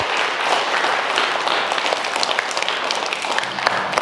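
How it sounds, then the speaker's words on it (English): A class of children claps for themselves in a school, a lively, sustained round of applause with sharp individual claps scattered through the dense patter, close and fairly loud. "Clap for yourselves. Give yourself a hand."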